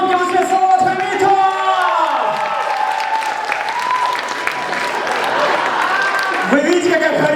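At a festive Chemist's Day holiday concert, a crowd claps steadily with scattered cheers and shouts, while a voice booms over the applause near the start and end.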